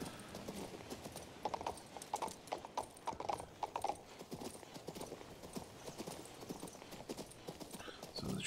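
Horse hooves clip-clop in a steady trotting rhythm while riding in the video game King's Bounty 2, close and fairly quiet, with a brief neigh and faint mechanical clatter mixed in.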